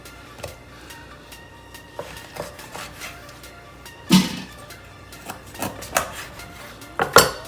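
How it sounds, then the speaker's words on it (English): Knife cutting through raw chicken wings, splitting drums from flats, in a home kitchen, making scattered short knocks and clicks as the blade strikes the board and dishes, a few louder thumps near the end, close and without talk. "Just have to have a good sharp knife, and pretty easy to cut the wings"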